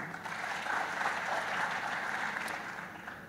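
Audience applause at a conference closing ceremony, a soft, sustained patter of clapping from a seated crowd, fairly distant and even, fading slightly toward the end with no speech.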